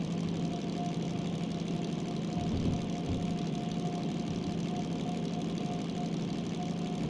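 Diesel-electric DM3 locomotive engine in the Derail Valley train game running at full throttle, a steady droning rumble with a sustained tonal hum, continuous and fairly even throughout with no talking.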